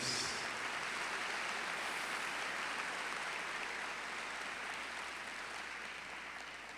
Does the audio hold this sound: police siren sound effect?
no